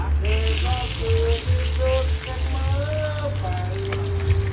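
Hot oil sizzling in a pan as cooking begins, a steady crackling hiss that runs the whole time beneath sustained tonal background sounds.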